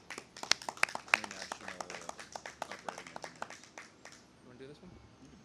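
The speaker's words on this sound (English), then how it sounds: "Let's give a round of applause for the Vet Center." Scattered applause from a crowd along a Labor Day parade route for the Vet Center, distinct sharp claps fading out after about four seconds, heard outdoors at moderate distance.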